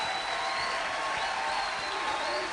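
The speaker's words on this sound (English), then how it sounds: "Come on, more applause for Zarah." A crowd at a campaign launch rally claps steadily, a dense continuous wash of applause at even loudness throughout with no clear voices.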